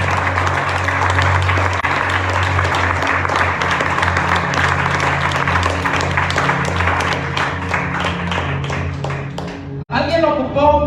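A church congregation applauds loudly and continuously for about ten seconds, a dense wash of clapping beneath a held musical tone, cutting off abruptly before speech resumes.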